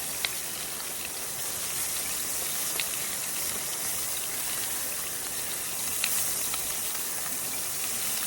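Bacon frying in a pan on a small firebox stove, a steady close sizzle and hiss with scattered pops and crackles throughout.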